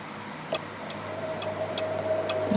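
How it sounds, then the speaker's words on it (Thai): A clock in the video game The Silent Age ticks in a steady, evenly spaced rhythm, faint over a quiet ambient hum with a thin sustained tone beneath. "มีนาฬิกากิ๊กกอกนะครับ เสียวเสียงนาฬิกาว่ะ"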